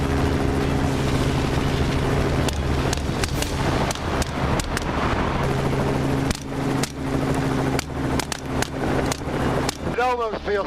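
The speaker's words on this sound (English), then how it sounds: "the loud noise from the helicopter and firearms" A helicopter's steady, loud rotor drone fills the scene during a night hunt, with repeated sharp firearm bangs cutting through it.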